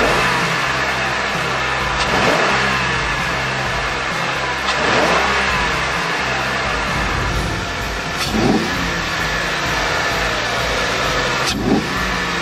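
4x4 engine fitted with a Red Rock cold air intake, revving up in repeated bursts every few seconds over a steady idle rumble, close and fairly loud, with no talk.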